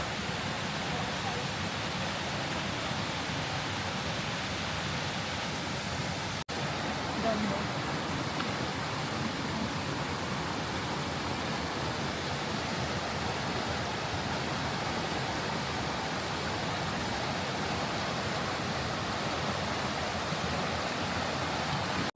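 River water rushing over stones in a bamboo forest near Sapa, Vietnam, a steady broadband wash that holds even and full for the whole stretch with no pauses.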